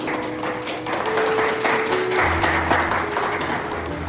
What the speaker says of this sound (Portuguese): Se você concorda com essa palavra de oração, aplauda Jesus mais uma vez